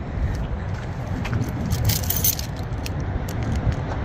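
Keys jangle near the microphone while a car is parked outdoors on a cold day in Canada, with metallic rattling and clinking bursts running continuously over a low vehicle rumble.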